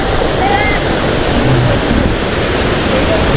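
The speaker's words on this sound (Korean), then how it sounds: "아 여기가 이끼 폭포 1폭이네요" The first fall of the moss waterfall at Gariwangsan pours in a loud, constant broadband roar, close by, with faint voices barely showing above the rushing water.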